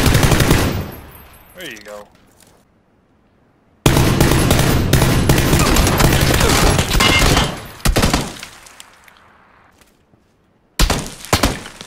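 Rapid automatic gunfire in the battle royale game PUBG, loud dense bursts cutting in and out with short silent gaps, with brief speech and other game sounds mixed in.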